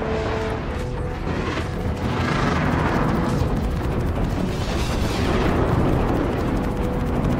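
A burst of loud, sustained explosive noise from an EMP blast in the Star Citizen space combat game, a thick roaring wash with booming swells that stays dense and close throughout.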